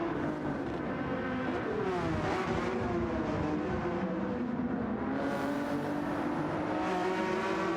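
GT race cars in a sim racing game lap Laguna Seca through the corkscrew, several engines droning and revving together in a steady, loud wall of sound with shifting pitch as the cars pass.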